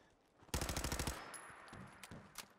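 Auto pistol fire in Fallout 4: a rapid burst of about a dozen sharp shots in quick succession, followed by a couple of isolated shots and mechanical clicks, fairly quiet overall with no talking.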